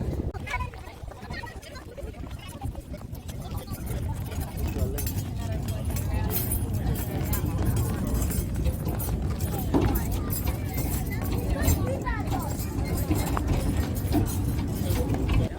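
Horse hooves clip-clop steadily along with the rolling rumble of a horse-drawn tram in Victor Harbor, under continuous talking from a person nearby.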